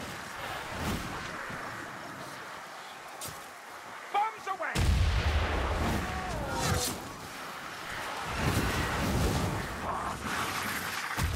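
Bombs exploding in the fantasy action game Warhammer Vermintide, a heavy booming blast erupting midway and rolling on in dense rumbling bursts over game noise, with voices speaking before it.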